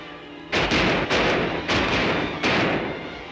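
Gunfire from a 1955 classic western film: four or five loud, close shots boom in quick succession, each a sharp blast with a rolling tail, with no talk over them.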